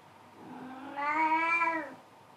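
A cat lets out a single clear, drawn-out meow lasting about a second, close by and alone against a quiet background.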